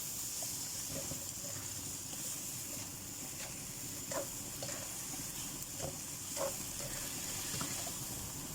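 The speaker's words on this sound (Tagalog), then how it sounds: "Boiling water to guys, galing sa electric kettle." Boiling water from an electric kettle pours into a cooking pan of shrimp and okra seasoned with chicken powder and pepper, giving a steady rushing splash over soft sizzling, with a few faint clinks along the way.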